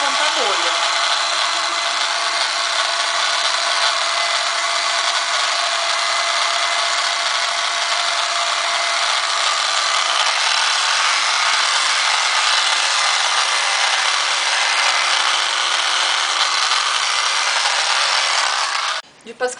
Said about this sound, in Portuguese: O soprador, ele dá 500 graus.